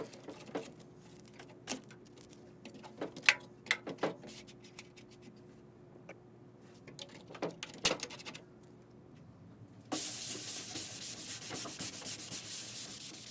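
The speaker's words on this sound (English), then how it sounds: "Just light sanding some of the lighter rust spots off here" Scattered clicks and light scuffs, then a steady, close, loud rasping scrape of hand sanding rust spots off a metal toolbox that continues to the end.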